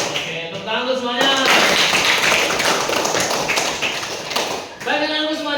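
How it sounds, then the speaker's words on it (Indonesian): A class of students claps hands together during a classroom coding lesson, a burst of dense, fast clapping lasting about three seconds, with a teacher's voice before and after. "tepuk tangan untuk semuanya"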